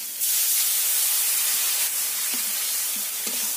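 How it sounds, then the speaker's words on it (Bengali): A little water poured into a pan of frying ground spices, including coriander powder, for a chana dal dish, sets off a loud, abrupt sizzling hiss that starts almost at once and holds steady, with a few faint clinks near the end. "মশলাগুলো ভালো করে ভেজে নেব। দিয়ে দেব অল্প করে জল।"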